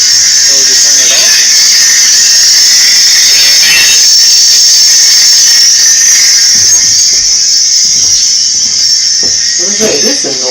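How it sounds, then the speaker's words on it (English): A loud, steady high-pitched hiss runs unbroken through a workshop from start to finish, with scattered voices and small knocks underneath. "What is that hissing noise?"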